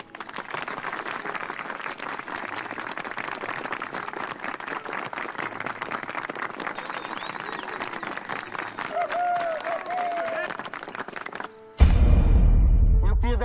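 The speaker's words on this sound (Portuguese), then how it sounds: "eu queria de verdade uma salva de palmas para esse bando de mentirosos aqui que embarcaram no meu sonho." Sustained applause from a crowd in a Brazilian comedy film, dense rapid clapping that runs for about twelve seconds with faint voices underneath, then cuts to a louder, different sound at the end.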